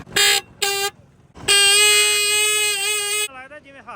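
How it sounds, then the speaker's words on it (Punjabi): A faulty horn on a new motorcycle gives two short, harsh blasts and then one long, blaring honk. A weaker, wavering tone trails off at the end. "ਲੱਗਦਾ ਜਿਵੇਂ ਹਾਰਨ ਖਰਾਬ ਹੋ ਗਿਆ।"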